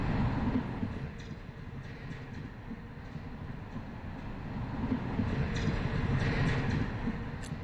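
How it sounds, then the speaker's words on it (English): A one-carriage train at a station in the game Pillar of Rust gives off a steady, loud, low rumble that runs unbroken and alone throughout, with faint rattling on top. "That train is literally just one carriage long."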